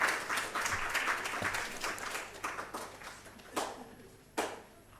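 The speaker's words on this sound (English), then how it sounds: "A round of applause." Audience at a research conference on sustainable global health applauds a speaker, giving a full round of clapping that thins out and fades, with a few last isolated claps near the end.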